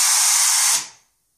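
A yarn splicing machine joining Kevlar and polyester yarn gives a loud, steady hissing air blast for under a second, which then quickly fades to silence.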